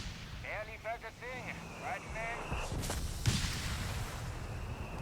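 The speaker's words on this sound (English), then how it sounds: "Shots fired." Gunfire and artillery crashes erupt in a Company of Heroes 3 battle, with a burst of booming shots and explosions after brief whistling tones, while a voice speaks under the action.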